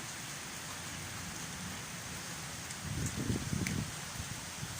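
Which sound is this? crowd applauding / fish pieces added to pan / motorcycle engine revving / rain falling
rain falling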